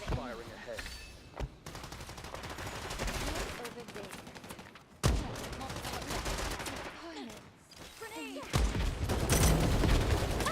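Rapid automatic gunfire from the Strinova shooter, dense sustained bursts with short gaps and a sudden loud resumption, mixed with game effects and occasional voice.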